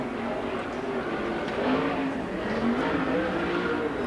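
A 410 sprint car on a qualifying lap around an oval, a constant high-revving engine roar from a distance with slight pitch shifts as it circles, steady and unbroken, no voices.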